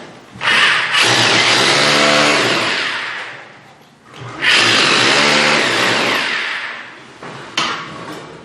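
A power drill whines loudly in two long bursts into a wall with a short pause between, its pitch wavering as the bit bites into something hard.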